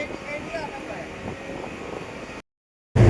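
Strong wind roars steadily into the microphone outdoors at a work site, a broad rushing noise under faint background sounds, cut by a brief dropout before buffeting resumes loudly.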